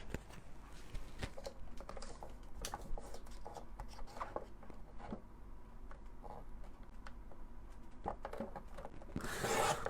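Card being cut for a scrapbook notebook holder, with quiet, close scraping and tapping sounds in an irregular pattern and a brief rustle at the end, and no voices.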